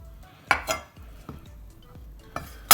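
Knife and utensils clink against a dish while cutting into braised beef short ribs from a Ninja Foodi Grill, several sharp, close metallic taps spaced irregularly over quiet background.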